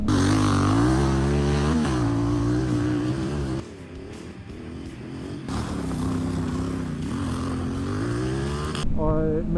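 Dirt motorcycle ridden hard along single-track trails, its engine loud and close with rising and falling revs from bursts of throttle, easing off briefly midway before pulling strongly again.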